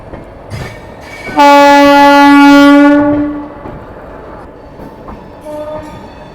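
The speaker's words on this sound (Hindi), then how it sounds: "ये जी दोस्तों, न्यू दिल्ली भुवनेश्वर तेजस राजधानी एक्सप्रेस" New Delhi–Bhubaneswar Tejas Rajdhani Express sounds a loud sustained horn blast of about two seconds while passing close by, with rolling wheel clatter before and after and a brief second horn note near the end.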